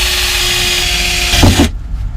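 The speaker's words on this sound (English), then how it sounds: "Drill some holes." A power drill whines loudly and steadily, then bites and stops abruptly, leaving near silence, while drilling bolt holes in a Mini 1000 car.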